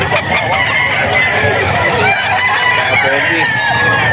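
An eight-month-old Cuban hennie rooster crows loudly and close at Bocaue pet market, its drawn-out call ringing over a busy background of market chatter and other fowl.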